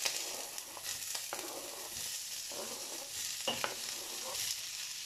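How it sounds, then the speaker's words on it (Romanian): Onion, bell pepper and pumpkin sauté in a pan for a fresh bean stew, with a constant hissing sizzle broken by several scraping strokes of a spoon as the vegetables are stirred. No voices. "Călim ceapa, ardeiul și dovleacul."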